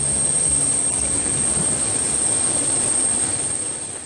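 Jet engines of an Air Koryo Tupolev 204 airliner, a loud, steady broadband roar with a high thin whine, heard up close from inside and fading slightly at the end.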